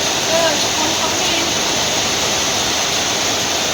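Heavy storm rain pours down onto a street that is flooding, with a constant, dense hiss of downpour near and loud, and voices faintly audible beneath it.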